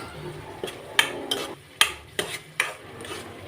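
Okra curry being stirred after coriander powder and garam masala go in, a spoon scraping and knocking against the pot in about six sharp, irregular clinks over a soft background, no talk.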